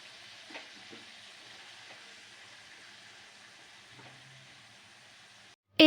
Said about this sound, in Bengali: হাফ চামচ গরম মশলা গুঁড়ো দিয়ে ভালোভাবে মিশিয়ে ভাজা ভাজা করে নেব